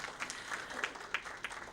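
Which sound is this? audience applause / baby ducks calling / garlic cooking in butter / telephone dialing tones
audience applause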